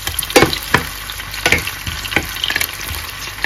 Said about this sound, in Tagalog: Lutuin muna natin tong seafoods na nilagay natin.